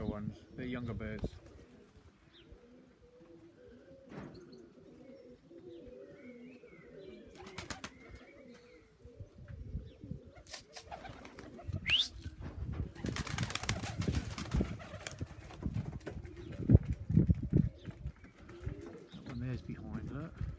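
Young pigeons coo in soft, repeated, throaty bursts near a loft, with wing flaps and clatter mixed in and a person talking over them.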